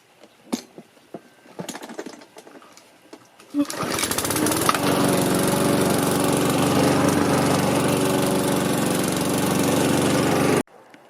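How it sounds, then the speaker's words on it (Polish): A lawn mower engine starts up after a few soft knocks and then runs loud and steady mowing grass and fallen leaves, droning without pause until it suddenly cuts off. "Zaczęłam kosić trawnik"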